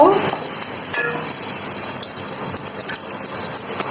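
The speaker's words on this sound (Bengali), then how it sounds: "আমি এখন দিব পেঁয়াজ কুচি পেঁয়াজটা একটু ভেজে নিব" Chopped onions frying in a pan while khichuri is cooked for fifteen people: a steady, fairly loud hiss of sizzling oil that runs unbroken throughout, with a faint low rumble beneath.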